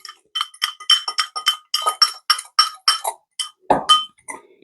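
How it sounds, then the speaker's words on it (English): A utensil stirs cayenne pepper and seasoning in a bowl for jerk chicken, making a steady run of bright metallic clinks and taps against the bowl, close and fairly loud, with no talking. "so I'm going to give that a stir just so I can see it."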